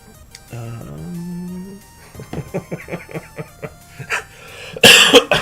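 A single sharp cough bursts out near the end, following a stretch of soft speech-like sounds and a brief hum.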